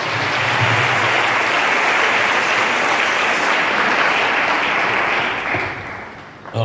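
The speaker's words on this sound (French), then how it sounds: "Put your hands together for the Lord." A church congregation claps loudly and continuously in praise, a dense, steady wash of applause that fades slightly toward the end.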